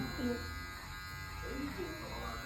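An electric hair clipper buzzes steadily and close during a boy's haircut, its hum running under a voice talking in the room.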